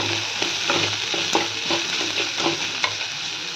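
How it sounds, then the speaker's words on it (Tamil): Onions sautéing with salt in a pan, a continuous close sizzle broken by repeated scraping stirs of a spoon at a quick, uneven rhythm, with no voices. "அதனால் நான் உப்பு கொஞ்சம் ஆட் பண்ணி வதக்குறேன்"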